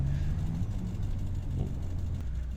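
Truck engine and exhaust in Farming Simulator, a steady low rumbling drone that holds close and even throughout, with no talk over it.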